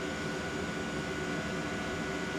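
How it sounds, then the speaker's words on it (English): Heater running in a garage on a snowy day, a steady broadband whoosh and hum of blowing air, constant and fairly loud with no other sounds. "The heater's kicked in because it's snowing outside."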